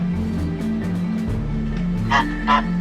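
Geese honk and call close by, a couple of loud honks standing out over a continuous low rumble of background noise.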